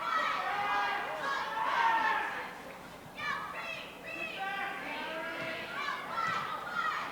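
Shrill chatter and shouts from Brownie troop children in the stands at a Saturday afternoon East Brunswick girls' high school basketball game against JP Stevens, a steady dense crowd din with rising excited bursts.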